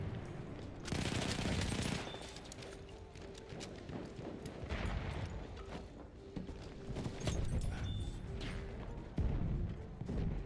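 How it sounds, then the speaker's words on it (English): An enemy machine gun fires in Battlefield 1 multiplayer amid dense battlefield noise, with repeated bursts of rapid gunfire at moderate distance layered over constant rumbling combat sounds. "That's an enemy machine gun."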